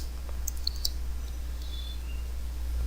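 A computer mouse gives a couple of small, sharp clicks near the start, close but faint over a constant low electrical hum.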